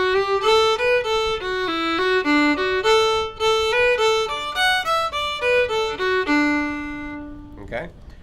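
Solo fiddle playing the B part of the old-time tune The Eighth of January, a lively run of bowed notes with clear slurs and bow changes, close and bright, ending with a brief fading tail.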